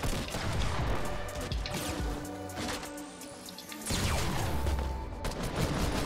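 Gunfire in the Fortnite Battle Royale video game during a Team Rumble match: a loud, dense stretch of shots and crashes with a brief lull midway before another heavy burst of firing.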